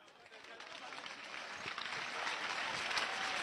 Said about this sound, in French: Applaudissez enfin les gens.